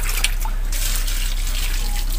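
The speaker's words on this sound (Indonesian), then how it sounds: "aku mau siram dulu tomat yang tadi, pohon tomat yang sudah aku tanam biar nggak layu" Water pouring onto tomato plants in a home garden beside the house, a steady splashing trickle running continuously at close range, with no talking.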